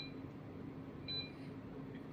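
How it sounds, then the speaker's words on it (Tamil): A ship engine room alarm on a Kongsberg simulator beeps in thin, high electronic tones, with a brief louder burst midway, over a steady low machinery hum and no talk. "ஸோ அலாரம் சைலன்ஸ் கொடுத்துடலாம்"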